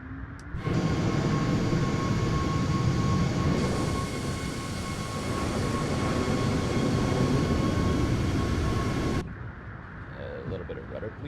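Airliner jet engines in a flight simulator spool up to takeoff thrust with a loud, steady broadband roar and a sustained whine that step up in intensity, then cut off abruptly near the end, with faint talk audible underneath.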